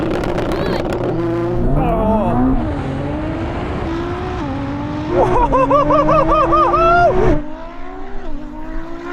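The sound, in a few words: Ferrari SF90 and Nissan GTR accelerating in a drag race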